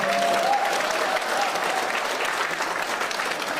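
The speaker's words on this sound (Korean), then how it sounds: "다시 한번 뜨거운 박수 부탁드리겠습니다" Dense, steady applause from an audience at a lecture gathering in Busan, sustained and fairly loud through the whole stretch with no pause.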